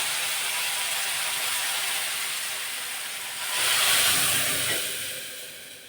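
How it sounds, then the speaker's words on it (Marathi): Cooked dal is poured into a hot tempering spiced with red chilli powder: a steady hiss swells into a louder burst of sizzling and steam, then eases off. "आता ही शिजलेली डाळ टाकायची आहे"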